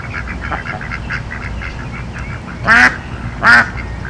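Two loud duck quacks stand out over a steady outdoor background of softer distant bird calls in the Delta.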